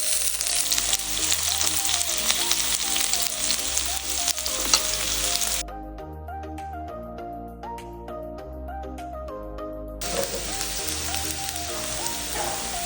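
Onions sizzle in butter in a hot pan for a dried-beef firfir dish, a steady broadband frying hiss beneath continuous music that drops away for a few seconds mid-clip before the sizzle returns.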